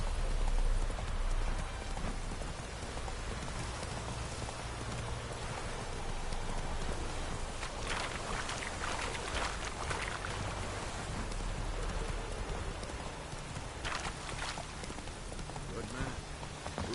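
Hooves of the horse Roach clopping steadily on wet ground in rain in The Witcher, a continuous beat under a hiss of rainfall with a voice speaking over it.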